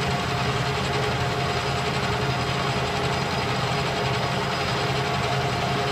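Metal lathe turning at 715 RPM with a negative-rake cutting tool, giving a steady, dense mechanical whir and grinding hum that holds evenly throughout with no pauses.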